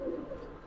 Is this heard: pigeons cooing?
yes